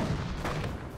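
Armor-piercing tank shells firing in the Company of Heroes video game, a brief dense burst of booming cannon reports in a battle din, loud and close within about a second.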